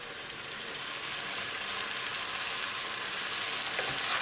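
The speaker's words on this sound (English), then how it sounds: "Cooking with the closed lid." Mushroom dal cooking under a closed lid on a medium-low gas flame, giving a steady bright sizzle and bubbling hiss that holds evenly and swells slightly toward the end, with no voices.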